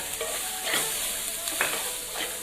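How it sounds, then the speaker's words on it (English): Pav bhaji masala with ginger garlic paste and green chilies sizzles in a pan, a close, steady frying hiss broken by a few scraping stirs of a spoon, with no talking. "we'll saute well for 10 minutes till the raw taste goes"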